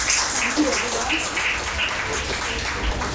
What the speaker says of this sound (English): can we please give a big round of applause to our 32nd speaker?